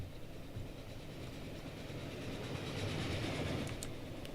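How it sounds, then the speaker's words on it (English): A train in Transport Fever rolls past with a steady rumble and faint rhythmic clatter, swelling slightly louder toward the end, with no voices. "Hold on, we've got a train going past."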